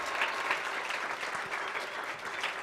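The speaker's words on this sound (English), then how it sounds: "Could we give another round of applause for everyone that presented?" Audience at a 2016 ethnic studies forum applauding the presenters: sustained, dense clapping from a roomful of people at an even level for the whole stretch, with no voices over it.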